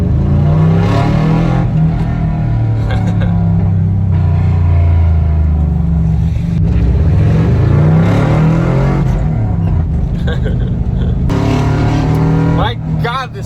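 A VW bus engine revs and accelerates loudly with a deep, throaty rumble, rising and falling in pitch, while voices talk over it.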